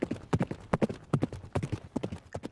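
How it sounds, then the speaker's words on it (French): Horse hooves gallop for a long stretch in a narrated French children's tale, a loud, steady clip-clop rhythm of quick paired beats close up, without voices. "Il galopa longtemps."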